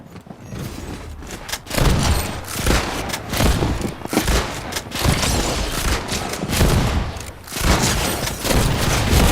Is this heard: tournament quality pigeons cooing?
no